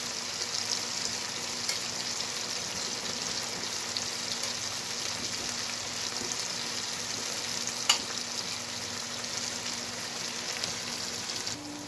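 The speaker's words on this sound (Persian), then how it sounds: "آهسته آهسته بانجان ها رو سلوات میندازیم." Eggplant slices fry in an oiled pan for eggplant borani, with a steady close sizzle throughout and light stirring noises.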